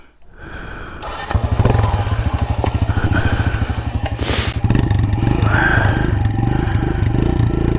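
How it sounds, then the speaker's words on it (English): A Kawasaki KLX140RF dirt bike, in first gear with the clutch pulled in, starts after about a second and settles into a loud, close, steady single-cylinder idle with rapid pulsing and a slight rev in the middle, on a mountain single-track trail in Payson Canyon, Utah. "Just pull your clutch in and start it."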